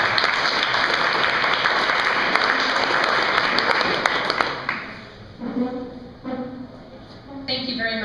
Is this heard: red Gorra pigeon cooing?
no